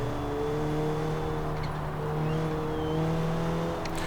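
A Honda Civic Type R driven in Forza Horizon 4 gives a steady, near engine drone with a held, sustained tone through a corner, faint tire noise around it and no talk.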